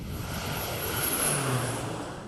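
A low-flying propeller airplane passes over farmland, a steady droning engine hum that swells slightly toward the middle and fades a little at the end, with no voices.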